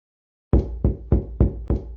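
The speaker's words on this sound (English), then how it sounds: "I carried on with my thudding until my hands hurt." Fists thudding on a door in five heavy, evenly spaced knocks, loud and close, with no voices.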